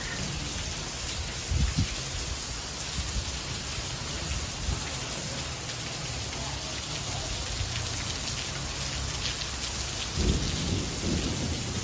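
A thunderstorm at a ranch resort in Warrensburg in upstate New York, with steady heavy rain hissing throughout and low thunder rumbles rolling in now and then, with no talking.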